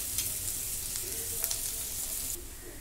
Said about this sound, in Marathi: कांदा चांगला लालसर भाजून घेते